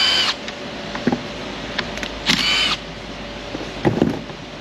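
Short whirring bursts of a power tool backing bolts out of a fan shroud, three separate runs close by with faint clicks and clunks between them.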